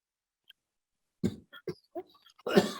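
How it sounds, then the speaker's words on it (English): A person coughs in a short series of close, dry bursts after a near-silent start, the last one rougher and longer. "Excuse me, I'm having a coughing."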